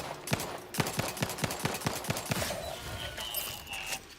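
Rapid gunfire aimed at a robot in the video game The Outer Worlds 2: a quick string of sharp, evenly spaced shots over about two seconds, followed by quieter game sounds and a thin electronic tone.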